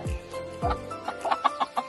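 Chickens kept in a closed coop cluck close by, a few low throaty calls followed by a quick run of short repeated clucks.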